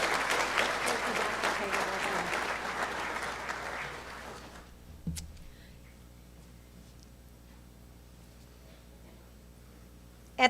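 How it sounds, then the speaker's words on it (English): Applause for certificate recipients at a college honors awards night: a room of clapping that swells for about four seconds, then fades out, leaving quiet hall ambience and a brief knock near the end. "Let's have a round of applause for our Mcmaster certificates"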